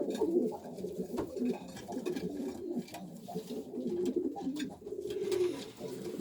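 Homing pigeons coo softly and continuously in a pigeon loft, low rolling calls repeating over a steady murmur throughout, close by with no talking.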